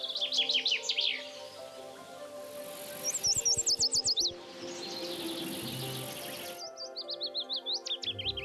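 Songbirds sing bright, rapid trilled phrases in several bursts with pauses between, clear and fairly close over a steady hum of insects, no voices.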